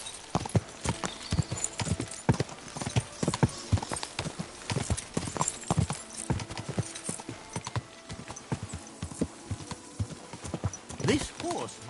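Horse hooves clip-clop in a brisk, uneven rhythm for several seconds in the video game Kingdom Come: Deliverance II, with occasional snorts and voices mixed in.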